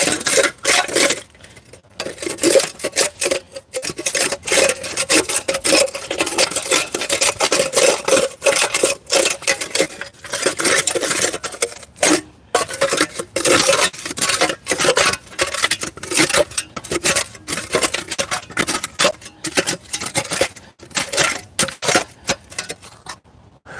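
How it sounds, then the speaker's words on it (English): A digging tool twists and grinds into packed soil with gravel, making a continuous loud rasping, scraping churn with rapid irregular crunches, close and steady throughout. "So I'm doing a lot of twisting,"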